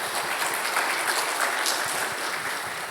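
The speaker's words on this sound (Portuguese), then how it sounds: "Vamos aplaudir Deus" A church congregation applauding during a sermon, a dense, steady wash of clapping hands that continues at even strength throughout.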